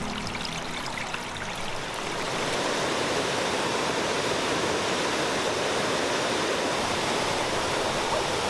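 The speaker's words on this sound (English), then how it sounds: "Crabtree Falls is arguably one of the most beautiful waterfalls on the Blue Ridge Parkway." Crabtree Falls, a tall waterfall along the Blue Ridge Parkway in autumn, pours in a steady, broad rushing roar that swells slightly after the opening seconds and then holds constant and full throughout.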